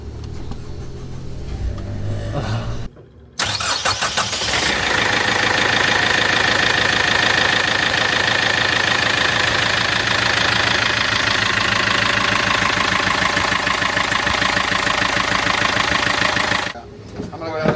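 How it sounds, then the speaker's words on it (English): A boat's Yanmar 110 diesel engine cranks briefly, catches and settles into a loud, steady rumbling idle, with voices heard before it starts. "All right, we're gonna start the other one"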